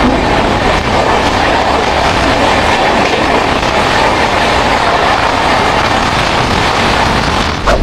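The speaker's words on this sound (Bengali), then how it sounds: "চলো বাইরে থেকে দেখাই কেমন স্পিডে ছুটছে" Express train on the East Coast line running at high speed near Kharagpur, a loud, steady rush of wheels and rails with rhythmic clickety-clack throughout, heard from outside the carriage.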